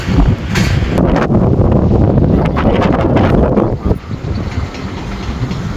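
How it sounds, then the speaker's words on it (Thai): Loud, continuous rushing of strong wind buffeting the microphone at Luang Prabang airport as rain arrives, steady for several seconds before easing slightly. "ลมแรง"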